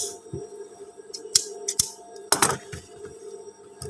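Scissors cutting through the fabric of a pair of trousers at a sewing table, several sharp crisp snips spaced irregularly over a low steady machine hum, close and fairly quiet, with no speech.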